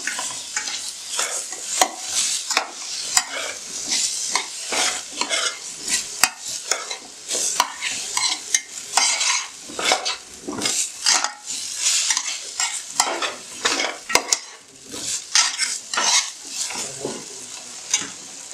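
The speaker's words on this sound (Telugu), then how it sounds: "ఇదంతా ఒకసారి మనం మళ్ళీ బాగా కలిపేసుకుందాం" Ginger garlic paste stirred in a pan of frying aloo matar pulao base, repeated scraping strokes and clinks of a spoon over a low sizzle, close and rhythmic, with no talking.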